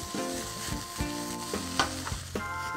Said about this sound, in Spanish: vamos a ir salteando las otras setas que tenemos por aquí